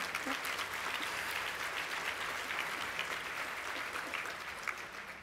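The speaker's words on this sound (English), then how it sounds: "That deserves a round of applause." An audience at a YWCA Chicago speaking event breaks into sustained applause, a dense, even wash of many hands clapping heard from a distance, steady throughout.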